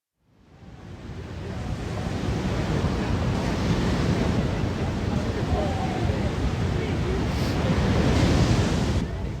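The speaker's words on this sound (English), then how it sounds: "other than the sound of the ocean" Ocean surf rushes in a continuous broadband wash that rises from quiet to a steady, loud roar, mixed with wind buffeting the microphone.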